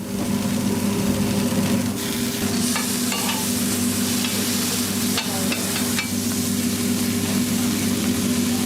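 An Angus burger patty fries on a hot griddle with a loud, constant sizzle, broken by a few scraping and spatula sounds; up close, with no talking.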